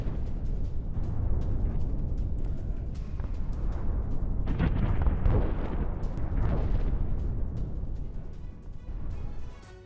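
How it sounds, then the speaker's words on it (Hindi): A drone strike sets off heavy explosions on a fuel-carrying train, a sustained rumbling roar with several deep booms swelling in the middle before fading away. "ईंधन ले जा रही ट्रेन पर ड्रोन से हमला किया गया। हमले से ट्रेन में भीषण विस्फोट हुआ है।"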